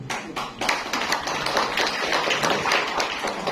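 An audience at a talk claps in a steady, sharp patter of hands, fairly close and sustained for a few seconds, with no voice over it.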